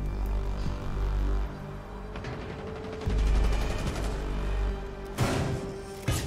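Bursts of rapid automatic gunfire from a new gun in Rainbow Six Siege rattle over dense in-game ambience and low rumble. A sharp, louder blast lands near the end, and no voices are heard.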